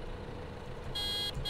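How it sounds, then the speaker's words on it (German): A vehicle horn honks in Landwirtschafts-Simulator 2015, a farming game on the Two Rivers map during a sugar beet harvest: one short toot of about a third of a second over a low engine drone. "Ey, was gibt's da zu hupen?"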